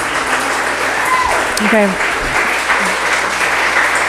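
An audience at a Pacifica city council meeting claps in a dense, steady burst of applause, with a short spoken word from a nearby voice.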